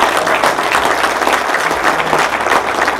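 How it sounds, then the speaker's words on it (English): Loud, close applause at the Mossy Creek Invitational fly fishing event in 2012, honoring a neighbor who bush hogged the grass: a dense, continuous burst of clapping from a crowd. "he deserves a round of applause for bush hogging that grass."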